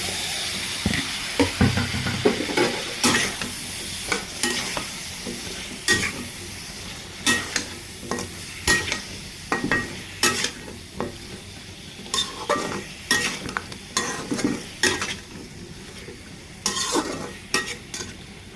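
Radishes are stirred into spice masala in a hot pan, sizzling steadily while a utensil scrapes and knocks in repeated strokes, close up and with no voices.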